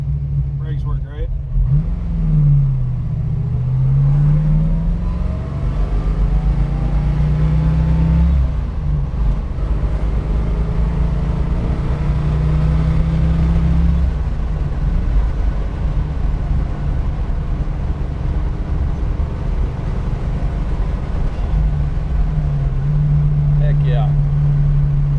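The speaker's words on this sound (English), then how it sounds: "Solid lifter, 271 horsepower, K code, fastback." A 1965 Ford Mustang K-Code fastback with a solid-lifter 271-horsepower engine, a loud low rumble heard from inside while driving, rising and falling as it accelerates and shifts, with a voice speaking briefly.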